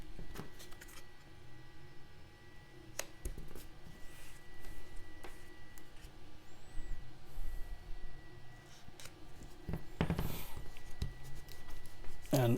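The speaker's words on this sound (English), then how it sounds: "I simply use a piece of cardboard. I put duct tape on both sides." Duct tape is torn and pressed onto both sides of a piece of cardboard, with scattered crinkles, taps and handling noises, then a loud ripping stretch of tape near the end; occasional voice in the background.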